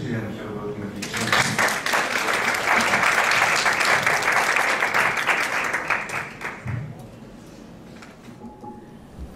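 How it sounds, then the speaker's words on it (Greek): A room full of people applauds in sustained, steady clapping that swells quickly, holds loud for several seconds, then thins out and fades. "Νομίζω ότι αξίζει να χειροκροτούμε την ευχή"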